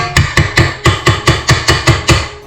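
A mixer paddle is tapped against the side of a bowl of lemon dessert batter, about ten loud, close, evenly spaced knocks in a quick steady rhythm with no voices.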